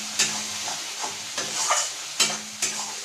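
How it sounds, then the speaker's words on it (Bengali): Egg korma masala frying in a pan as it is stirred constantly over lowered heat, a close sizzle broken by sharp, regular scraping strokes of the spoon roughly every half second. "এটাকে আমি অনবরত নাড়তে থাকবো"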